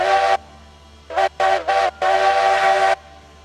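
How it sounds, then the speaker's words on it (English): A coal-fired steam locomotive's whistle in a railroad video game blows a long blast, then three short toots and another long sustained blast, loud and clear over a quiet hum. "What the whistle sounds on that unit."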